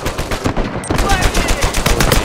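Gunfire rattles in a fast run of sharp, closely spaced cracks in Uncharted 4, loud and near, with a sniper firing on the scene.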